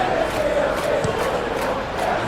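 Stadium crowd noise from the eFootball PES 21 video game during a simulated Premier League match between Everton and Manchester City, a steady loud roar with swelling cheers throughout.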